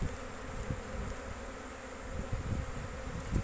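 Honey bees buzzing around a hive, a dense close hum of many insects with individual bees whizzing past the listener now and then, steady and moderately loud with no talking.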